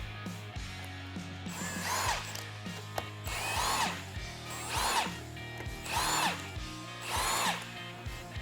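A power tool runs in repeated whirring bursts, about five of them, while removing bolts from a Polaris RZR XP Turbo transmission, close and steady with no speech.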